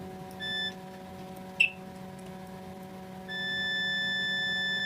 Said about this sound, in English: So we are in continuity mode.